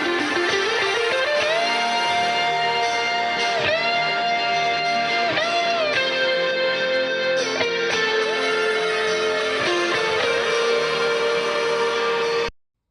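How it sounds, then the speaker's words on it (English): Layered electric guitars including a Silver Sky on the neck pickup in fifth position, playing sustained chords and gliding lead notes together, loud and full until an abrupt stop. "the guitars together sound like this"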